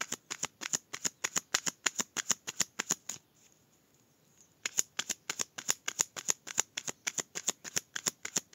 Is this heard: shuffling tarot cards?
yes